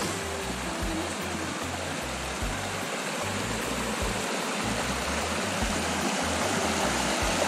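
Small stream rushing at a hiking crossing, a steady broad wash of flowing water close by, continuous and fairly loud with no voices.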